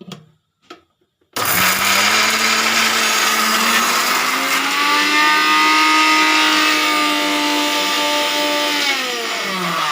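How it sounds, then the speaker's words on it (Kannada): A kitchen mixer grinder grinds a spice mixture for fresh pigeon-pea (togari kalu) sambar. After a few soft clicks it starts up and whirs loudly and steadily, close by, with its pitch sagging slightly near the end and no talking. "ನಾನು ಮಿಕ್ಸಿಗೆ ಹಾಕಿರೋ ಮಿಶ್ರಣವನ್ನು ರುಬ್ತಾ ಇದ್ದೀನಿ"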